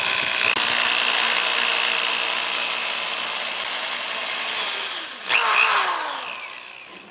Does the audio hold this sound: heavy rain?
no